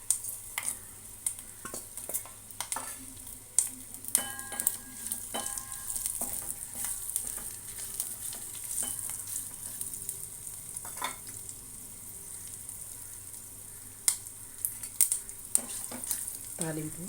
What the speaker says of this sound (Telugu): ఇందులో వెల్లుల్లిపాయలు కూడా వేసుకుందాము.